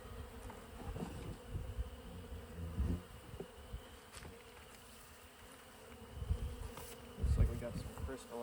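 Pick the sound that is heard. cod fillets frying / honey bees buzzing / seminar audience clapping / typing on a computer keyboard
honey bees buzzing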